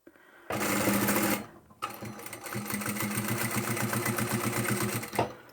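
A sewing machine stitches a fabric seam in close, loud, rapid bursts of mechanical chatter. A short run is followed by a brief pause, then a longer steady run as it backstitches, ending with a small clunk.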